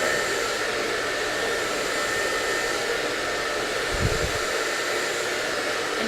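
A hair dryer blows continuously through a sleek blow-dry styling session, a loud, steady broadband whoosh with a brief low thump near the middle and no talk over it.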